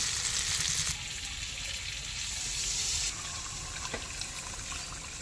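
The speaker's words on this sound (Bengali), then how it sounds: "এবার পরিমাণ মতো জল দিয়ে দেবো ঝোলের জন্য" Water poured into a pan of potatoes and cauliflower frying with spices, bursting into a loud hiss and sizzle that briefly drops away, then swells again as more water goes in, with a steady bubbling crackle throughout.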